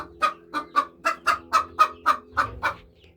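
A hen sitting in a nest box clucks in a steady series of about a dozen short, evenly spaced calls, close by, with a low background hum.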